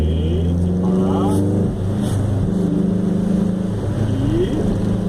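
Chevrolet Chevette 1.6 S 4x1 engine droning steadily from inside the car while driving, a continuous low rumble with slight rising and falling revs, with voices talking over it throughout.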